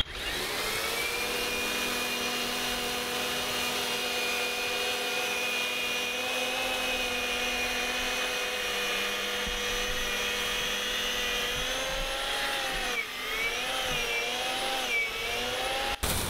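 An EGO 56V cordless multi-tool with a bristle brush attachment runs at its lowest speed setting, a steady loud motor whine with brushing hiss sweeping debris outdoors, holding constant throughout with a slight pitch wobble near the end.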